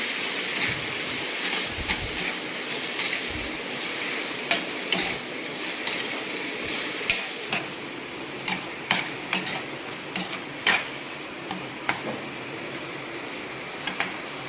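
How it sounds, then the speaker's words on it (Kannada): Tomatoes with salt cook in a pan under a soft, even sizzle, while a spoon or spatula stirs them and scrapes and taps the pan at irregular intervals, close and fairly quiet. "ಈಗ ಚೆನ್ನಾಗಿ ಫ್ರೈ ಮಾಡ್ಕೊಳ್ಳೋಣ"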